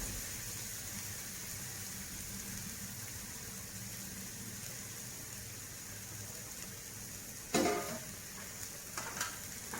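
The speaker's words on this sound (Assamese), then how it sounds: "মছলাখিনি এয়া ভাজি হৈছে" Spice masala for an egg gravy frying in a pan, a soft, even sizzle throughout, broken near the end by a brief clatter of a utensil, no one speaking.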